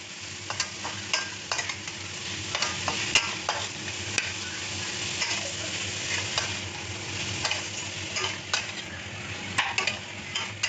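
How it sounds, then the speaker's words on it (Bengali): Carrots frying gently in a pan over a low gas flame, giving a steady soft sizzle with frequent stirring scrapes and light utensil clinks throughout. "চলো হালকা করে একটু ভেজে নিই গিয়ে।"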